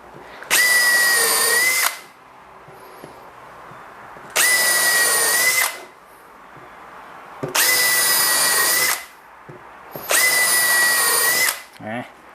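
A cordless hammer drill, DeWalt DCD805 or Makita DHP487, runs in four loud bursts of about a second and a half each, separated by short pauses with faint background noise.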